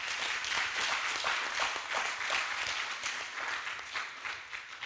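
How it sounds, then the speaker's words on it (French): A crowd applauds warmly for coaches at a closing ceremony, steady dense clapping sustained throughout at moderate volume with no talk over it. "j'aimerais bien qu'on les applaudisse"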